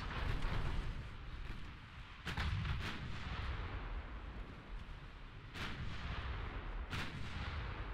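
Naval artillery gunfire in the Ultimate Admiral Dreadnoughts video game, several heavy booming shots spaced a second or more apart over a continuous dense roar of battle, loud and close.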